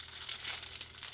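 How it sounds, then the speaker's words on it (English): Plastic wrapping on a surprise toy package crinkles and rustles steadily for about a second, faint and close, with no talk. "Oh my goodness, I have to unwrap it."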